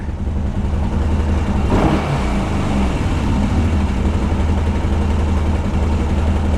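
A Kawasaki Brute Force 750 ATV engine in poor condition idles steadily and loudly nearby, a continuous low rumble with no talking.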